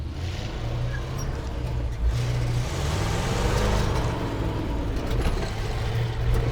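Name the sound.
1968 C50 ramp truck engine running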